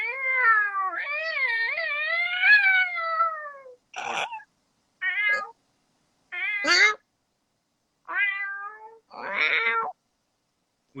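A person imitating cat meows: a long, drawn-out wavering meow followed by a series of shorter mewing calls separated by pauses, close and clear with no other talk.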